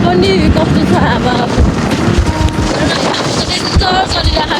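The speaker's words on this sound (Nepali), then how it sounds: "अब यो यता माथिको लेकमा पनि कस्तो छ हावा" Strong wind at a high mountain lake on the Muktinath trail buffets the microphone in a loud, continuous roar with gusty rumbling that never lets up.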